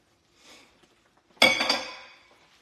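Beef and onions for a steak lo mein go back into a pan: a soft clatter, then a sharp metallic clank and scrape that fades over about a second, close and clear with no talking.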